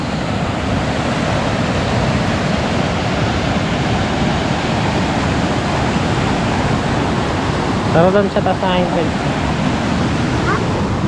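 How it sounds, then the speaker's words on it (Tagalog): A strong river current roars loudly and continuously, a dense rushing noise close by, with someone briefly speaking over it. "Ang lakas ng tubig."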